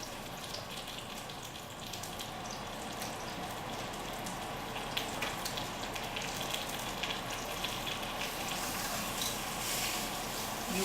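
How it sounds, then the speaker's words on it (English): Pork chops frying in a hot pan give a faint, steady sizzle and crackle, with a running kitchen hood fan droning underneath. "You want to hear that sizzle right away as well. Otherwise your pan is not hot enough."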